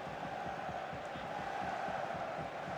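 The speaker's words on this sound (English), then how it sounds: "The crowd certainly thinks so. Just listen to them." Stadium crowd noise in the football video game FIFA 24: a steady, dense roar of many voices with rhythmic chanting pulses, continuous and fairly loud throughout with no break.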